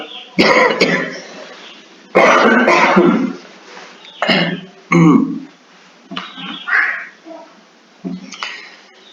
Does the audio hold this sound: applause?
no